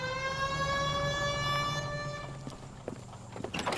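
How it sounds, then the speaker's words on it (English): A 1940s police car siren in the L.A. Noire video game wails as a steady tone for about two and a half seconds, then cuts off and gives way to scattered knocks and footstep-like thuds. "3591, that's him there, Phelps. Hit the siren."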